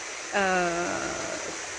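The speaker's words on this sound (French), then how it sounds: "on regarde le flot de la rivière et on se laisse traverser" A river flows steadily in an unbroken wash of rushing water, with a brief tonal voice-like sound rising over it early on.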